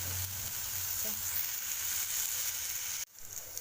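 A side dish of vegetables frying in a pan with white salt, a steady close sizzle that cuts off abruptly near the end.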